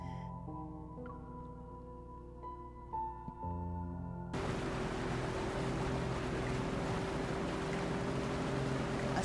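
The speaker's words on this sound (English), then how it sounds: "A small speedboat cuts through the azure waters." A small speedboat in a video game cuts across open water, a constant broadband rush of hull and spray that enters abruptly after a few seconds of faint musical tones and then holds steady.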